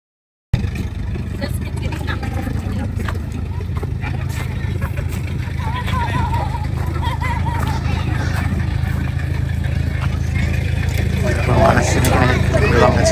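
A tractor drives at a sunflower festival, its low engine rumble steady and fairly close, with people talking and a crowd murmuring around it.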